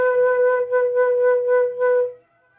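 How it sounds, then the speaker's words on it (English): A flute holds one sustained note with wide, fast vibrato, pulsing steadily in volume for about two seconds before stopping cleanly, close and clear with no voices. "Now, the best vibrato is one that uses wide and fast vibrato."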